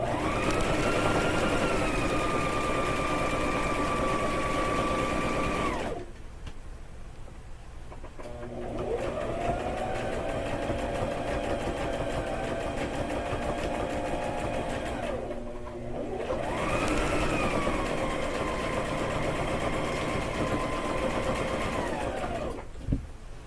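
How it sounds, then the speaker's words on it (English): A sewing machine stitches a quillow in steady continuous runs, stopping and restarting as it back stitches back and forth, with brief pauses between passes and no talking. "I am going to back stitch several times, back and forth"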